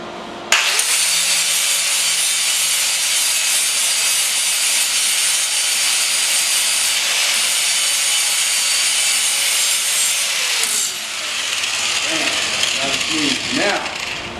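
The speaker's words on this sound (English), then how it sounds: "We're going to grind smooth, both sides." A German-made grinder works the welds smooth on a steel rear bumper, giving a loud, steady abrasive whine that runs about ten seconds, dips briefly, and then resumes.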